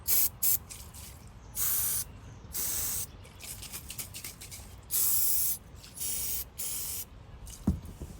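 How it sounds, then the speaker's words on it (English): An aerosol can sprays into the airbox of a Husqvarna 233L weed trimmer in about seven close hissing bursts. Two are quick puffs and the rest last around half a second, separated by quiet handling noise. "I'm going to go ahead and spray this one side of the airbox out"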